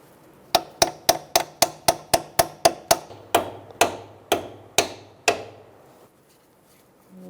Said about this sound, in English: I usually use a little hammer.